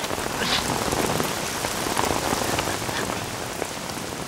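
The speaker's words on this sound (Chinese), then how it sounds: "在倾盆的大雨中回响着他嘶哑的哭声" Heavy pouring rain in a film scene on an island hisses as a dense, steady, even roar with no break and no voices.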